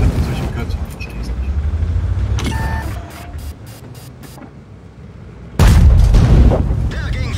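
Cannon fire and armour-penetrating impacts from World of Tanks gameplay, featuring Object 268 and Object 277 tank destroyers: a sharp broadband blast near six seconds follows earlier thuds and rumbling engine noise, with a brief tonal chime in between.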